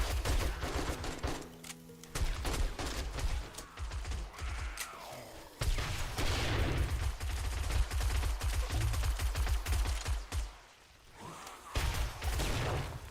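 A horde-night firefight in the zombie survival game 7 Days to Die: rapid, overlapping gunshots and automatic bursts from several weapons at once, loud and nearly continuous, with brief lulls between volleys.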